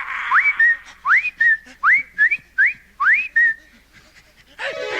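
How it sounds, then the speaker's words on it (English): A person whistles a sharp rising-then-level two-part call five times in an even rhythm, clear and close, followed by a short burst of other noise at the end. "I grabbed a stick and whistled a few times."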